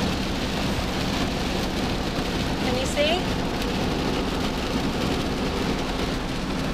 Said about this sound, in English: It's actually quite rainy.